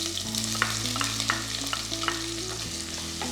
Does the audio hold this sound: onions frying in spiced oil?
yes